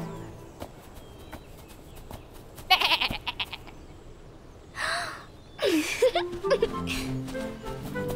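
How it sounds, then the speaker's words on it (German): A small goat bleats in a few short, breathy cries close by, separated by quiet pauses, with a rustle and faint movement in between. "Na, kleine Ziege?"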